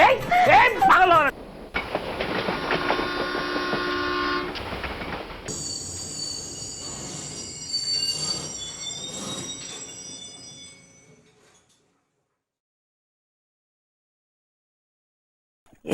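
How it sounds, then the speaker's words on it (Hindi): A train runs with rumbling wheels and metallic screeching as it brakes and slows to a halt, the noise fading into silence near the end; a voice is heard briefly at the start. "ये ट्रेन क्यों रुक गई?"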